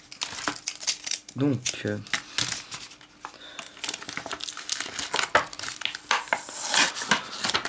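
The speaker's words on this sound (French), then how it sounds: "j'arrive pas à enlever les boosters, ça c'est chiant." Crinkly plastic wrappers of Pokémon Black & White Plasma Freeze booster packs being pulled and crumpled up close, with bursts of rustling and tearing while someone speaks briefly.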